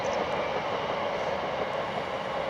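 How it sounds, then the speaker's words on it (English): A train passes at a distance near Bekesbourne on a rural walk, a steady faint rumble and rail hiss that stays even for a couple of seconds, with no voices. "there goes the old Bekesbourne train"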